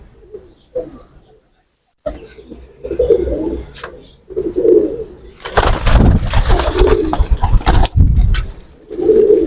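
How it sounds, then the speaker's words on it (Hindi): Champion stamped pigeons coo in soft, repeated low throaty bursts, close by, with rustling and some broadband noise partway through. "ये वो कबूतर हैं दोस्तों।"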